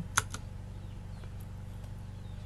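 A web address is typed on a computer keyboard as a few quiet, sparse keystrokes, with one sharper tap near the start, over a low background hum.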